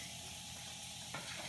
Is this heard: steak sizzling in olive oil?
yes